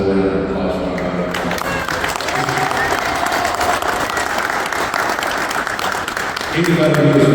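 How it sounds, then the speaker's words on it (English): Warm audience applause at a National Corvette Museum presentation, a full, steady round of clapping that swells right after a spoken introduction and fades as a voice resumes near the end. "Let's have a little round of applause for Bryan."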